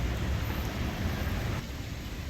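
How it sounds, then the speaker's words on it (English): Steady rain falls on a city street during a long-distance walk through Pittsburgh, a continuous loud hiss of drops that eases slightly near the end, with no voices. "Oh, it's raining again."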